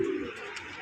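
Fancy racer pigeons cooing in a loft, a short low throaty coo near the start followed by soft cooing murmurs, close and moderately loud against a faint background.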